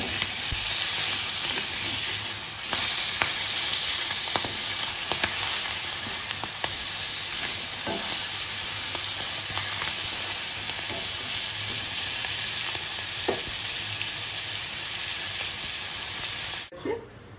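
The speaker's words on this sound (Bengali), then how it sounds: "একটু উল্টো পাল্টে ভেজে নেবো মাছটাকে" Oil sizzles and crackles steadily as prawns fry in a pan, with occasional sharp clicks of stirring or turning.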